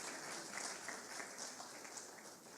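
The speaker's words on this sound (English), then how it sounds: "big round of applause for the passers of the CFA exam for the year 2024" Audience at an anti-fraud forum event applauding, steady dense clapping heard faint and distant throughout.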